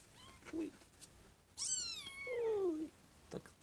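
A mother cat and her kittens meow close by indoors in the evening, with several separate cries, including one long, drawn-out meow, against quiet room noise.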